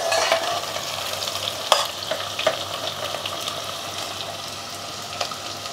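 Onions fry hard on high flame for a mutton curry, a bright steady sizzle broken by frequent scraping stirs and occasional sharper clinks of the spoon against the pan.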